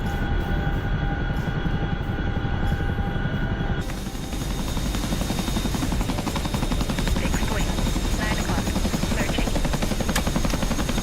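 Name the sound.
Chinook helicopter in a video game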